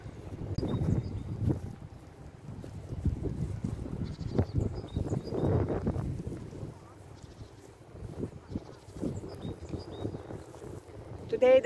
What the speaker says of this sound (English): Today the weather is quite good, but it's windy